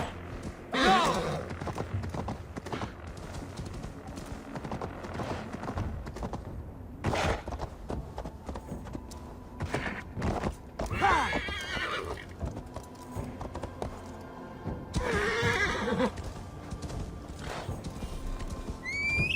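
A horse in the video game Assassin's Creed Valhalla: clip-clop hooves run steadily throughout, broken by several loud whinnies and snorts, with music and game ambience underneath.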